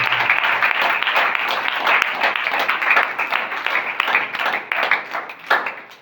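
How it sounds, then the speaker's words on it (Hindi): A church congregation claps together in a dense, steady burst of applause that holds for about six seconds, with a few louder peaks near the end and no talk over it. "ताली बजा देगी यीशु मसीह के नाम से।"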